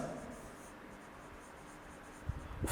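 Notes on semi-synthetic polymers are written out as a steady, faint scratching of strokes on paper, ending with a few light knocks.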